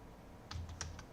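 A few quick clicks of keys on a computer keyboard, faint and close, in a short irregular burst over a quiet room hum during Python coding.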